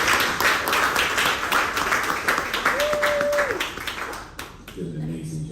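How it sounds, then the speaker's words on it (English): An audience claps in a steady wash of applause for Trish at an event, with a voice briefly audible over it before the clapping thins out near the end. "Clap that for her."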